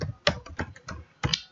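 Keys tapped on a computer keyboard while entering console code, a few separate clacks in uneven bursts, fairly close and clear with no talk over them.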